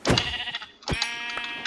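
Sheep in the Minecraft video game bleat in two short, close game-sound calls, one at the start and another just before the middle, with light background game audio between them.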